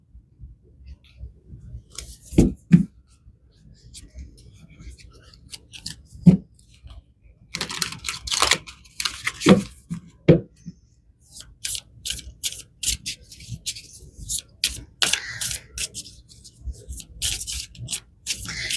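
Tarot cards being shuffled in bursts of quick riffling and soft rubbing, close up, with short pauses between rounds and no talking.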